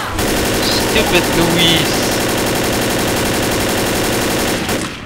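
Sustained rapid automatic gunfire in the Left 4 Dead video game, loud and continuous for several seconds, with a player's voice speaking briefly over it.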